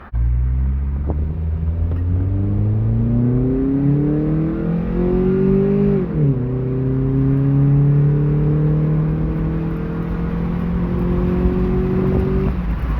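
A 2003 Toyota Matrix XR with a Magnaflow exhaust drives past the open front windows. The loud engine drone rises steadily through the gears, dips briefly at a shift, then climbs again, and the rumble is continuous with no talk.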